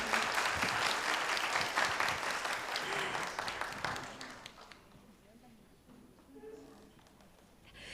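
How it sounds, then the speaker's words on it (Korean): Audience applause at a youth talk concert, a dense burst of clapping with a voice over it, fading after about five seconds to quieter scattered claps and room murmur. "다시 한번 수고해 주신 위원장님께 큰 박수 부탁드리겠습니다."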